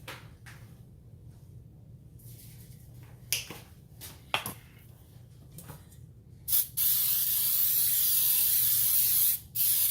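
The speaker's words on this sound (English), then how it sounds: "spray your pan down real good" Sharp clicks and knocks lead into a long, steady hiss of cooking spray from a can onto three 9-inch round cake pans, briefly pausing and then starting again at the end.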